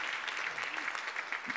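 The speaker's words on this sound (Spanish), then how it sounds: "Fuerte el aplauso para Matías, ¿era?" A crowd at a live event in Concepción gives a short round of applause, steady and moderately faint, with a voice briefly audible underneath.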